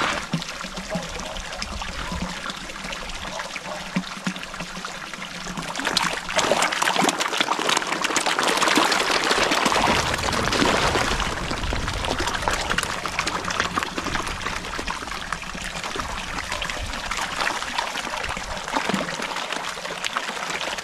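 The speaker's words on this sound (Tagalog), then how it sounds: "Flowing lang yung tubig natin dito." Continuous water trickling and flowing nearby, a steady splashing wash that swells louder midway and carries on without pause, no voices.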